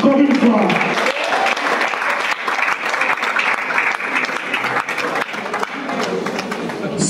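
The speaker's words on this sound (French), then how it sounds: "Applaudissez pour la famille Ntenda" Wedding guests clap loudly for the couple's family at a reception, a sustained crowd applause with voices mixed in at the start and end.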